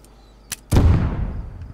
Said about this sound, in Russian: Взрываю.